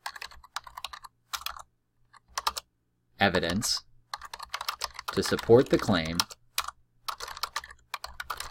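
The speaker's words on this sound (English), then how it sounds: "I'm going to try typing this time" Fingers tap steadily on a computer keyboard in quick bursts of clicks, with a person talking over the typing partway through.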